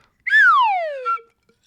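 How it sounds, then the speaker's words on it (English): A physical slide whistle gives one loud, clean sliding tone that starts high and glides steadily downward over about a second, then stops, with no voices over it. "Here's a physical slide whistle"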